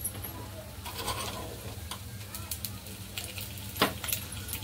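Appe (rice dumplings) sizzle in oil in a pan as they are turned, giving a steady close crackle broken by a few sharp scraping clicks.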